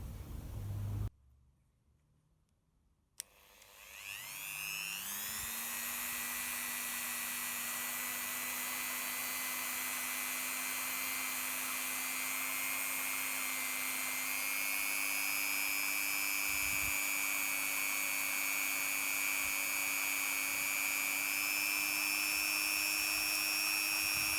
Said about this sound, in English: Then I'm going to be using a Dremel 3000 with my cotton buffing wheel, and I'm going to give this a buff.